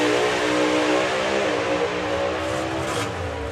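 A turbocharged drag racing car engine at a doorslammer drag race, a loud, dense rumble with layered harmonics, holding steady and close without clear revving bursts, alone with no talk.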